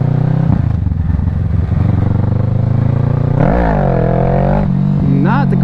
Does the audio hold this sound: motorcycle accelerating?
yes